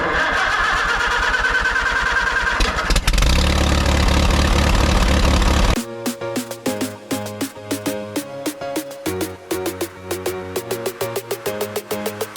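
A car engine with an idle-shake fault cranks with a rough whir, then catches and settles into an idle. The idle is loud and close, and rhythmic music plays over it.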